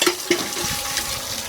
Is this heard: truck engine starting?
no